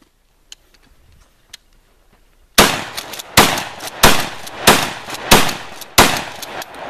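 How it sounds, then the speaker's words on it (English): Gunshots fired outdoors at a soda can target, six loud sharp reports spaced about a second apart after a quiet stretch with a couple of faint clicks. "I guess I'll shoot over there."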